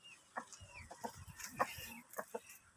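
Native Brahma chickens clucking in short, separate bursts, a few soft calls spaced irregularly over a quiet farmyard background, fairly faint and with no talking.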